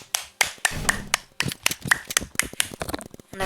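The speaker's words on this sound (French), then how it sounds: "On applaudit tous, voilà." A short, close burst of clapping with uneven sharp claps and taps that continue for a few seconds, fairly loud and without talking.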